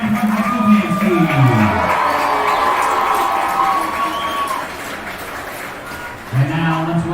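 Applause and cheering from a high school football crowd saluting the Sandpoint High School dance team, a sustained roar with whoops, under a loud announcer voice over the PA.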